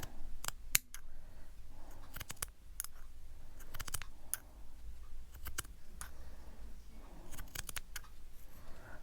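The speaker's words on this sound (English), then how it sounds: "And then we're just cutting this right down the middle" Scissors cut paper for a prayer journal layout, a close run of crisp snips and clicks at an uneven pace, with quiet rustling between them.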